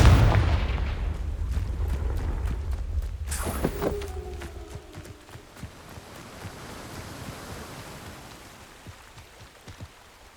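Confringo fire spell in the Hogwarts Legacy video game, a heavy blast followed by a crackling, rumbling tail with scattered debris-like pops that fade slowly.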